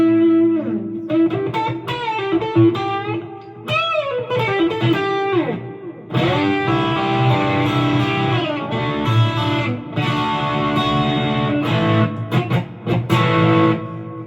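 An electric guitar runs through one pedal into an amp, ringing out distorted melodic lines and sustained chords that swell loud and fill the whole stretch, with no talking.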